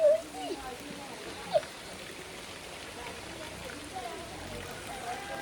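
Light rain falling in the Konkan countryside, a steady soft hiss throughout with a couple of brief louder knocks near the start, and a voice speaking over it.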